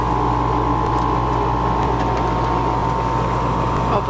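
A repaired electric fan running with its casing open, giving a steady loud whirring hum with a constant motor drone and no pauses.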